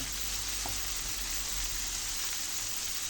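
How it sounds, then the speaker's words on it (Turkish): Hot peppers sauté in a pan on the stove with a continuous close sizzle and crackle and a few faint stirring knocks. "böyle tavanda iyice soteliyorum"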